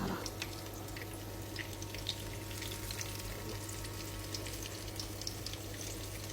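Pieces of food dredged in flour fry in hot oil, a dense steady crackling sizzle with scattered pops, heard close and without talk.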